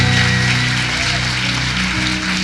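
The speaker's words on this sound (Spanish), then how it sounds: "Dale un fuerte, fuerte, fuerte aplauso al Señor" A congregation at a family congress church service claps loudly and continuously, forming a dense, even wash of applause with no speech over it.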